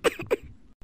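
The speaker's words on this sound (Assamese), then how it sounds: "কাহি দেখুৱাব আহিছে।" An Assamese cartoon character gives two quick, close coughs followed by a short breathy pause.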